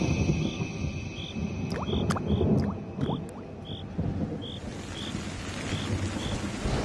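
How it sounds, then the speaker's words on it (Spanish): Rain falls steadily amid rumbling thunder, with occasional sharp cracks and a low roll building in the middle of the storm. "El viento meridional trae relámpagos y lluvia"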